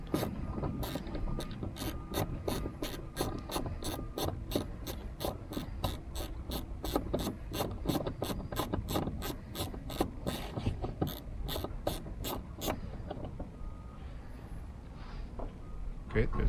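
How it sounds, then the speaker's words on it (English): A 10mm ratchet clicks in a rapid, steady run of sharp ticks while backing bolts out of a 2006-2012 Mitsubishi Eclipse door, close and fairly loud, stopping near the end with a low rumble underneath. "you'll have to get a 10mm ratchet to remove two 10mm bolts"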